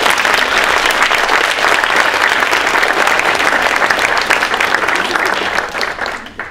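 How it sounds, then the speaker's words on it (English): Loud, sustained applause from an audience welcoming a panel on biking in Montreal, many hands clapping evenly and close, tapering off at the very end. "please assist me in welcoming them all by giving them a round of applause"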